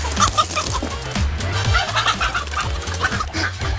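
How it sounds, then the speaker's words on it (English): Chickens cluck and murmur continuously, several birds close by, with scratching and a low steady hum underneath. "Have you got chickens up there?"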